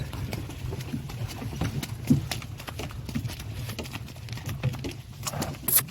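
Steady clip-clop of a four-year-old draft mare's hooves at a walking pace, moderately close, with faint birds and outdoor ambience in the background, in Ternopil region, Ukraine.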